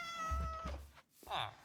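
A single cat meow from the video game Minecraft, a clear tonal call with a falling pitch, followed by a short second mew, heard close and alone.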